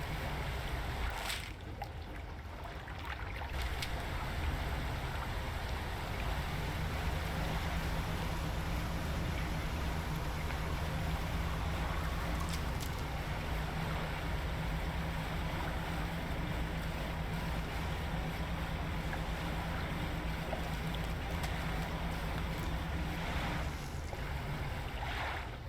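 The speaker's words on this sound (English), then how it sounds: "Hearing all these wet splashing noises." Steady wet splashing and churning water from a small fishing boat pushing through coastal sea in the game DREDGE, a continuous near wash with a low engine-like hum running underneath.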